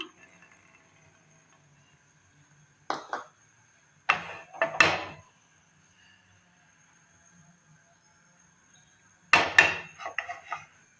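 A pan is set on a stove and oil is poured in, heard as several short metallic knocks and clatters in separate clusters, close and fairly crisp, with quiet gaps between them and a faint steady hum beneath.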